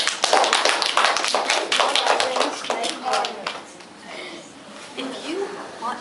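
Audience applause breaks out at a classroom-style presentation, a burst of dense clapping from a group of people that gradually thins out, with some voices and chatter mixed in.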